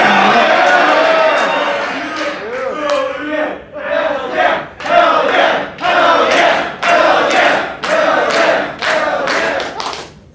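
A wrestling crowd at a cosplay wrestling show roars and chants in loud, rhythmic bursts, about nine repeated surges of cheering and yelling with clapping mixed in, filling the hall throughout.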